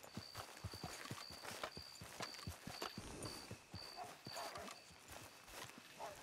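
Horse hooves clip-clop in a steady walking rhythm in Red Dead Redemption 2, each hoof strike distinct and close, with a faint repeating high tone running over the hoofbeats.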